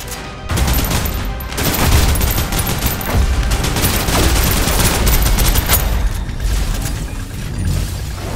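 Sustained suppressive automatic gunfire in the video game Snowbreak Containment Zone roars loud and continuous as a dense, unbroken fusillade for several seconds.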